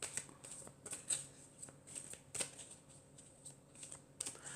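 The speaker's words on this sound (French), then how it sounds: "je vais prendre encore 4 cartes" Tarot cards being handled and drawn from a deck, soft papery slides and crisp flicks arriving in an irregular rhythm, close and quiet with no talking.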